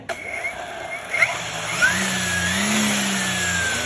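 Small electric brush cutter motor whining, switch clicking on and off, then revving up to a sustained high-pitched hum with a faint rising tone.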